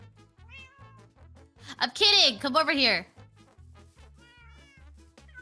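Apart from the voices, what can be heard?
cats meowing in Minecraft video game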